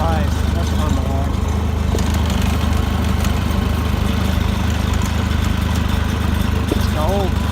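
An engine idles steadily after a cold start on a freezing day, a loud continuous low rumble with a fast, even pulse throughout, while a person talks over it.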